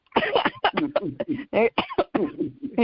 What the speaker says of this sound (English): I get to coughing when I laugh